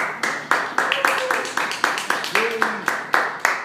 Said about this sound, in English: Listen to that crowd, Rebecca.